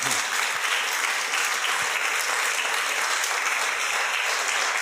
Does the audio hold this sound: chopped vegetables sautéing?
no